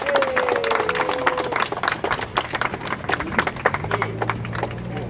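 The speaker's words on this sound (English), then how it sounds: "Let's give another round of applause and thank you for coming out." A crowd applauds outdoors at a street renaming ceremony with dense, lively clapping and some cheering. Voices and a brief whistle-like tone mix in, and the clapping thins toward the end.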